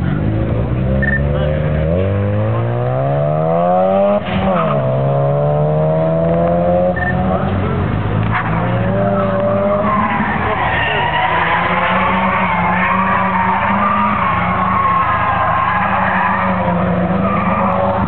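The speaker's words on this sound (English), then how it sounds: "We got a Mazda RX-7 coming out." A Mazda RX-7 drifting: the engine revs rise and fall loudly while tires skid and squeal, continuous and close throughout.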